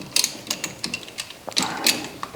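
14 mm brake caliper bolts are loosened on a car with a ratchet, giving a quick series of close, sharp metallic clicks and clacks in an uneven rhythm.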